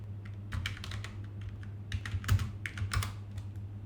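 Quick keystrokes clatter on a computer keyboard as a password is entered, a close run of irregular taps with a few harder presses, over a faint steady electrical hum.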